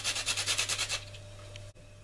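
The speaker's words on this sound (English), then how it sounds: "I'm going to grate a little of this lemon rind into that pie." Lemon rind grated over a blueberry pie: about eight quick, rhythmic rasping strokes close by, then stopping, leaving a faint hum.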